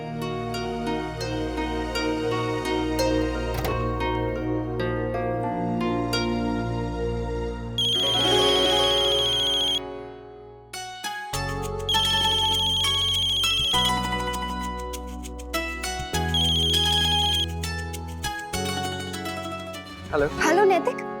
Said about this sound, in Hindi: हेलो नैतिक, आप मेरा फोन क्यों नहीं उठा रहे हैं?